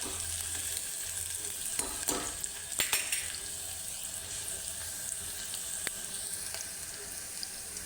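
Garlic frying in a pan for rajma, a soft, steady sizzle at low level with a few brief clinks and stirring scrapes, no voices.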